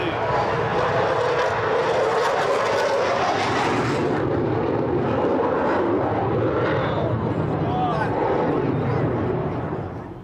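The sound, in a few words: Royal Air Force Typhoon jet aircraft flying past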